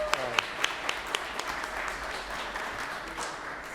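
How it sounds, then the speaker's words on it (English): An audience applauds at a city council meeting, opening with a few sharp individual claps and settling into a steady, moderate round of clapping from the room. "Let's give the city manager a round of applause as well."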